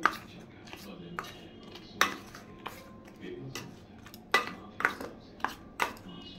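A metal spoon mixes a spoonful of chili powder into food in a pan or bowl. It sounds as a string of sharp clinks and scrapes at irregular intervals, close by, with no speech.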